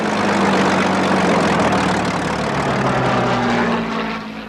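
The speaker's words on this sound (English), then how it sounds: "reverberating to the roar of the Spitfire's Merlin engines" A Spitfire's Rolls-Royce Merlin piston engine roars loud and steady at a wartime airfield, its continuous propeller drone holding for several seconds before easing slightly at the end.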